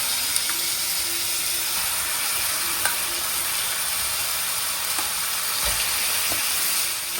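Squid sizzles steadily in a pan of lightly sautéed ginger garlic paste, a continuous hissing fry with occasional faint clicks and stirring scrapes, fairly loud and with no talking.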